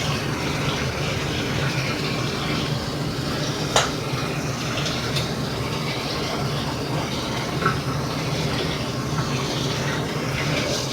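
Rice being rinsed in water, heard as a steady, dense rushing and splashing wash that continues without pause throughout, with an occasional faint click.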